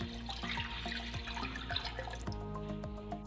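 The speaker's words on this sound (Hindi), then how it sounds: "एक पैन में हम दूध डालेंगे।" Milk pours into a pan for custard, a continuous close liquid splash with small drips and clinks over a steady background, no talking.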